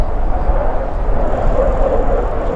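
A toy J20 Chinese fighter jet plays an electronic jet sound effect, a steady, loud, hissing roar that holds without a break.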